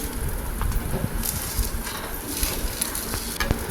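Batter frying in a pan with a few drops of white oil, a steady close sizzle with faint crackles and occasional stirring scrapes running throughout, no voices.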